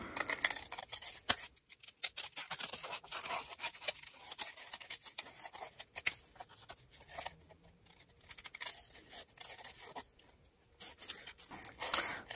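Repeated snipping and crisp paper-cutting sounds, close and fairly quiet, running in short bursts with brief pauses throughout.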